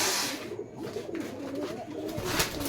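Pigeons at a home loft cooing close by, a soft repeated throaty burble running continuously with faint rustling and background noise underneath.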